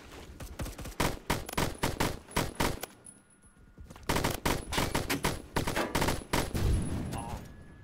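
Rapid automatic gunfire from the online shooter game Phantom Forces, dense bursts of loud shots lasting several seconds, a short lull near the middle, then more sustained firing, with no talk over it.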